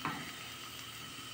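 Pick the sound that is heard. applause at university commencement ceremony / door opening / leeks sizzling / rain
leeks sizzling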